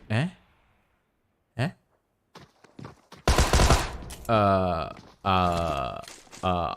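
Gunfire in a battle royale esports match, with a couple of short isolated shots followed by longer loud bursts of rapid fire aimed at a wall, mixed with voices talking.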